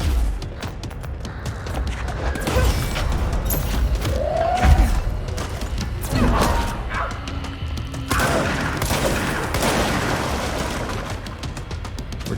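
Enemy gunfire in the video game Control comes as repeated sharp shots and bursts over a busy mix of in-game effects, fairly loud and continuous throughout.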